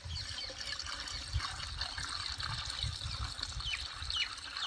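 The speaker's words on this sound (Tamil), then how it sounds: "அதுக்காக தண்ணி ஊற்றி வைக்கிறீங்க." Water poured into a container while mixing a 15-litre can of Indiagro farm spray, a steady broadband trickle and splash with a low rumble beneath and faint birds in the background.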